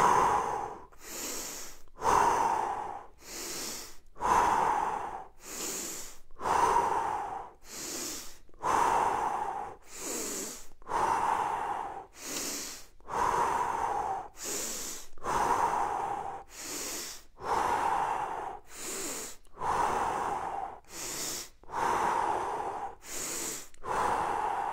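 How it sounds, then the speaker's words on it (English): During a home workout exercise, a person takes rapid, forceful sniffing breaths through the nose in a steady repeating rhythm, close and clear, with no talk. "we're sniffing and lifting."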